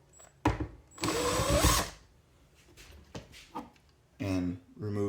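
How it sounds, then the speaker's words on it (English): A powered screwdriver whirs in two short bursts as it backs screws out of the side panel of a Delhi-style harmonium, with faint handling clatter between bursts and a voice speaking near the end. "first I'm going to remove these 2 screws on the side"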